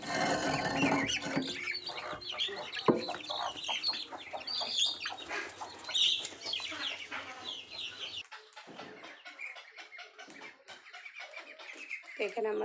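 Chickens cluck inside a small chicken house, with busy clucks and chirps in the first part, fainter calls later, and a person talking over them.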